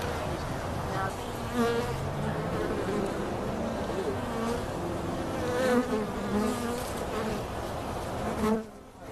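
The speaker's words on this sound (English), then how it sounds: "Look how many bees in here." A dense swarm of honey bees drones steadily in an open hive box during a hive inspection in a club yard, a continuous close buzz with rising and falling pitch.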